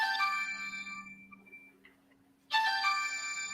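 A mobile phone rings with a bright, melodic electronic tone that plays, drops away into near silence for about a second, then starts again at full strength. No one speaks over it.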